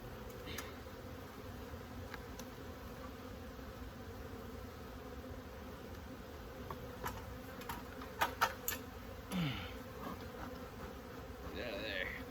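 Angry bees buzzing around a beekeeper in a protective suit and gloves, a faint continuous drone with a few sharper passes close by and some handling knocks near the end.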